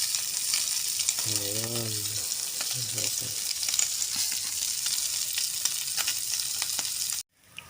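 Food fries in a pan with a steady, loud sizzle and crackle that runs almost the whole time, a voice speaking briefly over it near the start, before the sizzling cuts off abruptly at the end.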